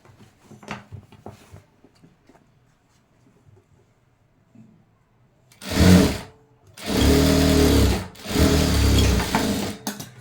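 An electric sewing machine stitches a blouse, running in three loud, close whirring bursts after a quieter stretch of light handling clicks and rustles.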